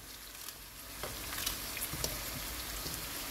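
Carrots sautéing in a pan with olive oil, a steady soft sizzle with occasional faint clinks of stirring.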